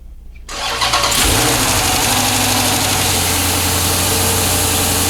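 A Dodge Challenger SRT engine fitted with a cold air intake cranks and catches, then settles into a loud, steady idle that keeps running close by.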